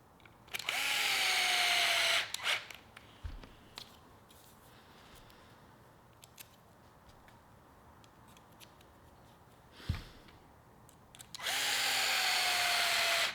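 A power tool drives the three screws holding the wing mount on a Team Associated B7 RC car, with two close, loud whirring bursts at start and end, separated by quiet handling clicks and a couple of sharp knocks.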